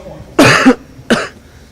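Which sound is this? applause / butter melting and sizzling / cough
cough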